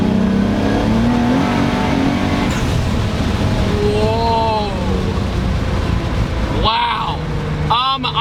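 A Nissan 300ZX with a VG30 engine, long gearing and upgraded big turbos pulls hard from a brake-boosted launch, engine note climbing through rising revs with a gear change, loud and close under a voice talking.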